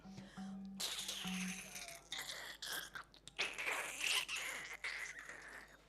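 A human voice imitates a giant Gippsland earthworm slurping underground, with wet sucking, squelching gurgles and crunchy slurps rising and falling over several seconds, performed close and fairly quiet after a few low hummed tones.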